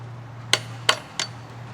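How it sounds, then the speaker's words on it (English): A rubber mallet strikes a CV axle shaft three times to tap it out of a 2015-2018 Ford Fusion, each blow a sharp, close knock with a short gap between them. "Using the rubber mallet, tap the right CV axle shaft out."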